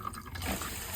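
Tap water runs steadily from a faucet, flushing antifreeze out of the plumbing lines; a continuous close hiss of flowing water fills the full second without talk.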